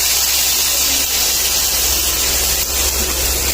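Water poured into a hot wok of frying fish head with onion, ginger and garlic bursts into a loud, continuous hissing sizzle of steam and spatter that fills the whole moment at close range.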